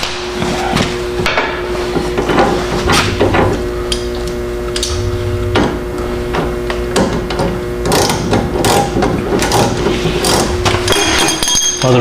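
Metal tools working on the steering linkage of a Jeep Cherokee, with repeated sharp hammer-like strikes and clanks from a ball joint puller and wrench over a constant mechanical hum, close and loud.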